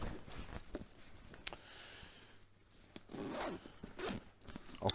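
Zipper on a 1990s LBT-1547A Ranger assault rucksack being opened, several quick rasping pulls close up, with handling rustles between them.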